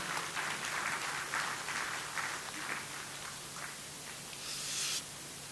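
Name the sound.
audience applause welcoming a speaker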